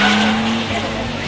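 A D1NZ drift car in 2005 competition skids with a loud, sustained tire squeal and roaring engine, close and continuous, as a commentator talks over it.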